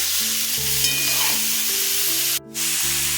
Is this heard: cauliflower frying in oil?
yes